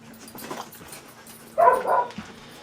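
A dog lying under a camera in a workshop where a Homelite string trimmer carburetor is being replaced gives soft whimpers and a short whiny yelp, fairly close, amid quiet room noise.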